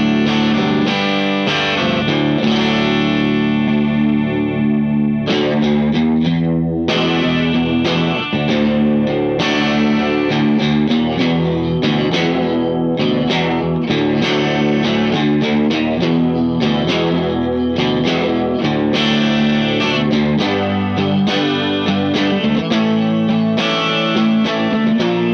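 A Mosrite electric guitar is played through a Cherry Tone amplifier with a chorus pedal, producing a distorted, shimmering chorused tone in a continuous strummed riff.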